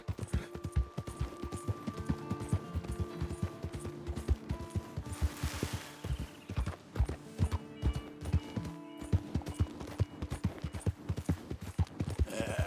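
Horse hooves clip-clop steadily in Red Dead Redemption 2, a close, even trotting rhythm that runs throughout, with a brief whinny partway through.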